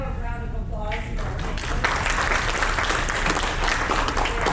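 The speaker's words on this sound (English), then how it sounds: "how about a round of applause for" A live audience breaks into sustained applause at a veterans-focused reverse mortgage talk, broad dense clapping that swells within the first second or two and holds steady to the end, with voices talking briefly at the start.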